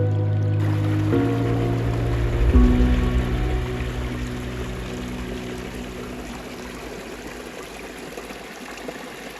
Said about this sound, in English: We just noticed that water flow has picked up quite a bit. The spring is running higher.